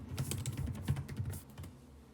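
Quick, uneven typing on a computer keyboard while entering a Windows command-line instruction, a steady run of light close-up key clicks with no talking.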